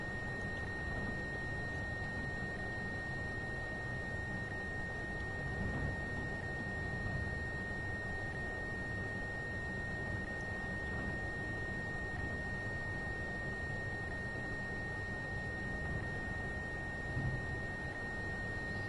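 A cab alarm in a Train Sim World 5 cargo locomotive at Cajon Pass sounds as a steady, unbroken high electronic tone over a low engine rumble, constant from start to finish.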